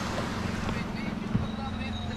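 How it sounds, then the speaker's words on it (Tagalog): A boat draws near at night during a spearfishing outing; its engine gives a low, steady droning hum beneath breezy wind noise, with one brief knock partway through. "Ayan na, may paparating na na bangka oh."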